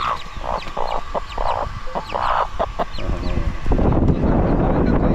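Chickens cluck in short, repeated bursts close by, followed by a rougher stretch of scratchy noise.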